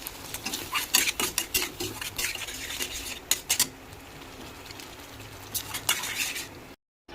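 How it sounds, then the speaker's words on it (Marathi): Masala paste frying in oil over medium heat while being stirred, with steady sizzle and frequent scraping and clinking of a metal spoon against the pan, for a matar paneer curry. "मस्त तेल सुटेपर्यंत मसाला फ्राय करून घ्यायचा आहे"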